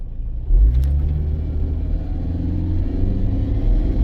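A car engine rumbles low, then surges as it revs up and holds a steady, strained roar with slight fluctuations, close by and without talk.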